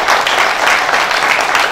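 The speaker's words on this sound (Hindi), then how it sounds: "तो एक बार इन दोनों के लिए भी जोरदार तालियां।" A seminar audience applauding, a brief, loud, dense burst of clapping from many hands that stays even and close throughout.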